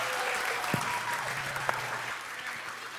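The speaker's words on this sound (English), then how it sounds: "Can we give Poet and Brian another round of applause?" A college event audience applauds poets with dense, sustained clapping that fills the hall, a few sharp individual claps standing out near and loud against the steady roar.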